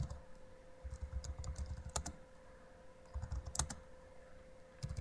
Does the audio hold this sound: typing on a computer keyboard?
yes